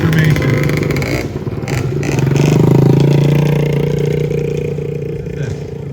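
Vintage Kawasaki motorcycle engine running steadily nearby at an outdoor vintage trike gathering, a loud continuous droning hum that swells slightly midway and holds.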